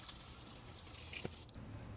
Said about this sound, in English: Now I'm gonna clean this area with water as well.